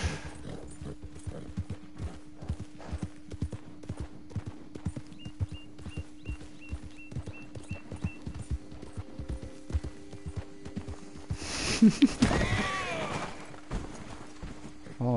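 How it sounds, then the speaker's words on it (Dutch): Horse hooves clip-clop at a steady, even trot in the Red Dead Redemption video game, a continuous rhythmic patter that runs throughout, with a neigh-like burst and a faint hum under it. "Oh, een paard ook, joh."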